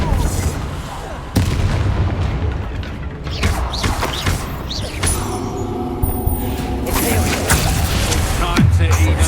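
Confringo spell blasts go off in Hogwarts Legacy combat, sharp booming explosions landing one after another amid crackling magic effects and game sounds, with a voice briefly heard.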